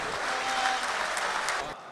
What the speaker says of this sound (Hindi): अभी तालियां बजाने के लिए और भी तो है